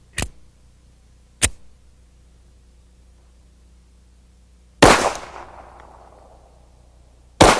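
Handgun firing 185 grain Winchester Silvertip ammunition in low light: four sharp, loud shots spaced apart, one followed by a long fading echo, with quiet in between.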